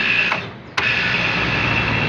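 A 10-ton outdoor air-conditioning unit with a fan motor that had been failing runs its compressor and fan blower. A loud, steady mechanical drone with a whining tone dips briefly, then kicks back in and holds at full strength.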